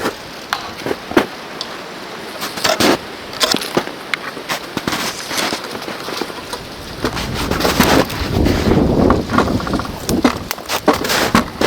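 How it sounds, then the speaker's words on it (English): Strong wind gusts roar outdoors in Pennsylvania woods during a flintlock deer hunt, a rough broadband rush with buffeting bursts that grows louder toward the end. "Alright, big wind."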